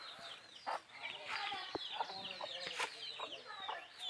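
A hen with three chicks clucks in a household yard, giving short repeated clucks among thin, high chick cheeps. The calls are close and irregular, with quiet background noise between them.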